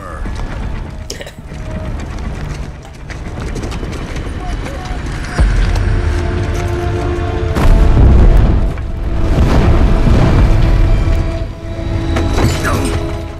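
Game explosions and crumbling rubble in Gears of War: Judgment, rumbling low booms and debris clatter building through the scene with a heavy blast swell midway, partly under a voice.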